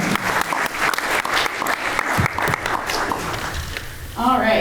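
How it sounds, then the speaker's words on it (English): Audience applause at a business development roundtable, a dense burst of clapping from a room of people that fades near the end as a voice begins speaking. "You guys can clap for that."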